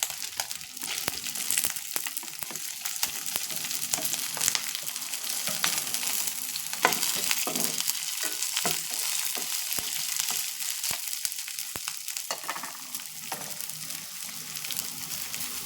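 Nalleru stems fry in oil with dried and green chillies, giving a dense, steady sizzling hiss with small crackles that runs unbroken for the whole stretch.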